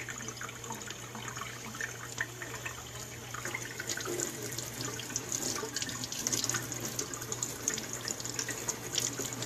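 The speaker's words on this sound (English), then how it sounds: "Run it under some water." Tap water runs into a sink while paintbrushes are rinsed, a steady soft splashing stream with light spattering that grows slightly busier midway, fairly quiet and with no voices.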